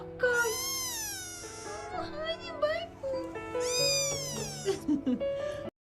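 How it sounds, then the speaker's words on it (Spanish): Several cats in a short video meow and caterwaul nearby. Their rising, wavering cries overlap and trade off in quick succession, fairly loud. "les voy a poner a continuación un pequeño video de unos gatos"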